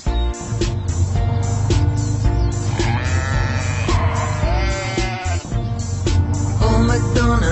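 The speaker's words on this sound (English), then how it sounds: "And on his farm he had a sheep, E-I-E-I-O. With a ba-ba here and a ba-ba there." A sheep bleats in a children's farm song, its calls sitting over a busy, loud music backing that plays throughout.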